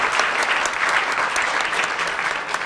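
Dense, steady applause from a congress audience, continuous and evenly loud throughout, with no voices standing out above the clapping.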